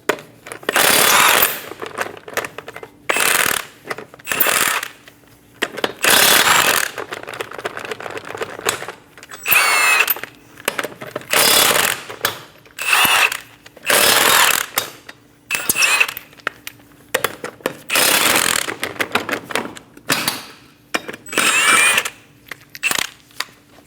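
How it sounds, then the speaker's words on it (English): Wheel lug nuts coming off a 2008-2015 Scion xB with a 21mm socket: repeated loud rattling bursts of an impact tool, each a second or two long, separated by short pauses, close up. "Using a 21mm socket, remove the 5 lug nuts."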